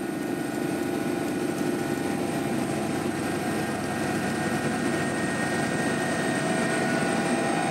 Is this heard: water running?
no